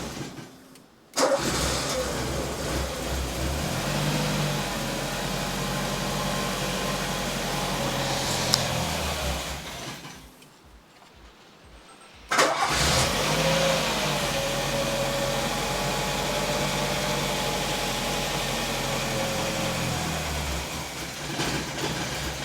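A Peugeot 205 1.6 GTI engine cranks and catches, runs at a steady idle close by, cuts out for about two seconds, then restarts abruptly and keeps running evenly to the end.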